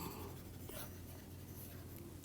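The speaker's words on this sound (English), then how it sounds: "maybe I will write it down neatly" Faint handwriting during a physics lecture on scattering, a steady soft scratching of writing on a surface, low and continuous with no speech.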